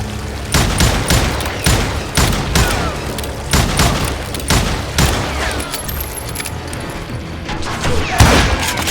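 Rapid volleys of gunfire in the Western shooter Call of Juarez: Gunslinger, loud and close, with sharp overlapping shots in an uneven rhythm throughout and a heavier blast near the end.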